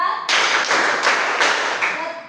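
A group claps hands together in a counted classroom-style clapping game, producing a few loud, closely spaced bursts of claps in a short, steady pattern.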